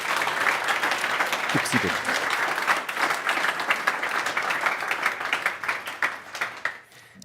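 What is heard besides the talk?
audience applause for meetup speakers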